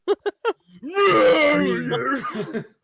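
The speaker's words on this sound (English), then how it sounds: "Heard that scream before." A werewolf's scream in the courtroom game Ace Attorney: three short yelps, then a long wavering, wailing howl that rises and bends in pitch before breaking into choppy cries.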